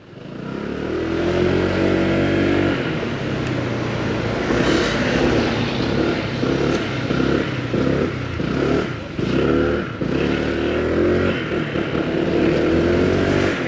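A 2023 Honda PCX motor scooter engine roars loudly and continuously, with throttle pulses and revving rising and falling as it rides, no talking.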